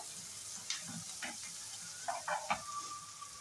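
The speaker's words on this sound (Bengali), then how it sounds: "পেঁয়াজটা তো ভাজা হয়েই গেল।" Onions fry softly in a pan, a faint continuous sizzle with a few small stirring scrapes and taps near the end.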